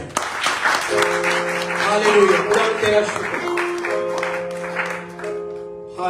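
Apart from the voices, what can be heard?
congregation clapping loudly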